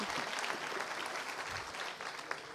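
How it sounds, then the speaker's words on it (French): Graduates and guests at a master's degree ceremony give the professors a warm round of applause, dense continuous clapping from a large crowd, moderately distant and even throughout. "on peut les applaudir chaleureusement"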